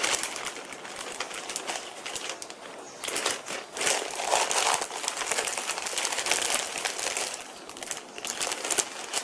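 Plastic zip bag crinkling and rustling up close while meat is packed into it, in irregular bursts that continue steadily throughout.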